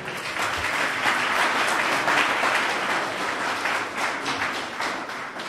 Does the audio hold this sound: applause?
yes